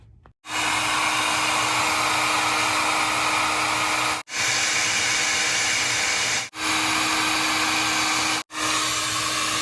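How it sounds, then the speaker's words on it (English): A heat gun blows steadily and loudly while heating a glued toilet flange, its even roar broken by three brief cutoffs where it stops and restarts. "put the heat gun in here and then twist it around like this while applying heat directly to the sides"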